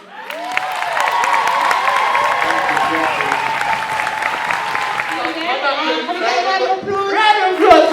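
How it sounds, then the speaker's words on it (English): Applause at a book launch, with clapping and some cheering rising from the audience while a voice speaks over it. "Round of applause for Robyn."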